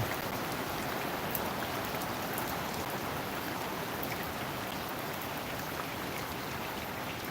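Steady, dense night rain pouring down in Dhaka without a break, a loud broadband hiss close by with scattered drop impacts throughout.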